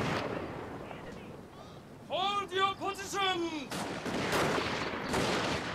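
Volleys of rifle fire at attackers scaling walls during a siege defense in Fall of the Samurai, sharp repeated shots in bursts mixed with battle noise, and someone talking over the action.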